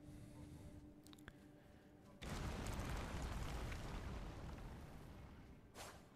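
Ground crumbles away at a dead end in Elden Ring, a sudden loud rumbling collapse after a quiet stretch with a few faint clicks, holding as a dense roar for several seconds before easing, with a short final burst.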